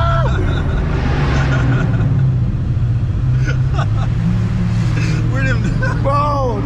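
Ford Mustang engine revving hard as the tires break traction, a loud, continuous roar with rising pitch sweeps near the end, under excited shouting from people in the car.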